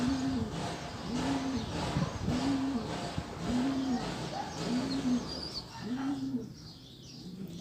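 Homing pigeons coo in a steady series of about six rising-falling calls, close and clear over a busy background of other birds chirping around a loft.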